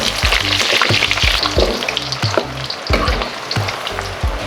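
Eggplant being stir-fried in a hot pan, loud steady sizzling broken by repeated scraping strokes of a spatula in an irregular rhythm, with no voices.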